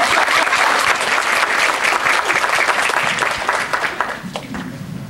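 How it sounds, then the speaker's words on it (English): A crowd applauds loudly and steadily, dense clapping that tapers slightly toward the end. "give him a round of applause"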